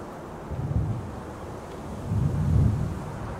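A worsening Martian storm in the game Deliver Us Mars, low gusting wind with two swelling rumbles, like distant thunder rolling in over a few seconds.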